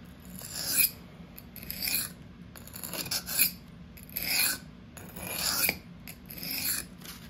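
A REX-45 steel knife is sharpened freehand on a stone with slow draw-cutting passes, each stroke a soft, close rasping scrape, repeated about six times in an uneven rhythm without speech.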